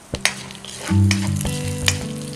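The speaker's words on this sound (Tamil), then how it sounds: "எண்ணெய் நல்லா காஞ்சிருச்சு இப்போ நம்ம வெட்டி வச்சுருந்த இஞ்சி பூண்டை சேர்த்துக்கலாம் பச்சை மிளகாவையும் சேர்த்துக்கிறேன்" Ginger, garlic and green chili hit hot oil in a pan for a Tamil chutney, giving a loud, steady sizzle and crackle with a few stirring knocks and clinks of the utensil.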